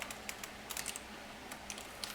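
Light, quick keystrokes on a computer keyboard come in short irregular bursts, quiet and close, with no talking.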